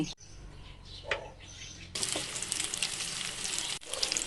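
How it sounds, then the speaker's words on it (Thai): Thai grilled pork skewers of marinated minced pork with fresh milk are laid in an oiled pan. A few light clicks and taps come first, then a loud, steady sizzle of frying takes over. "ทาน้ำมันในกระทะให้มัน ลื่นๆก่อนนะคะ แล้วก็เอาหมูลงวางเลย"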